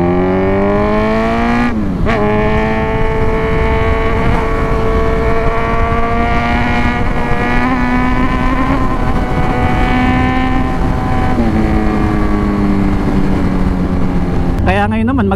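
A Kawasaki Z1 motorcycle engine drones steadily with rising and falling pitch as it shifts through gears, loud and close, cruising along a road.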